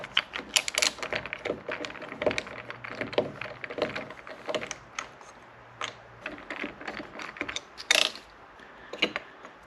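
Cap being removed from a garage door opener, heard as faint irregular clicks, ratcheting snaps and plastic rattling up close, with short sharp knocks scattered throughout and no speech.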